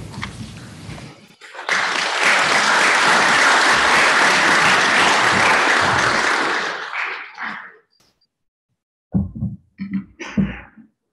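An audience at a convocation ceremony applauds a choir performance, loud sustained clapping for about six seconds that tapers off, followed by silence and then a few scattered bursts of sound.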